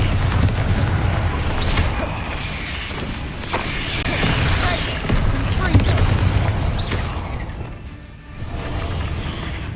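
The Bombarda blasting spell goes off in the Hogwarts Legacy video game amid continuous combat, with heavy booms and clattering mechanical impacts layered over a rumbling battle bed, briefly dipping near the end before resuming.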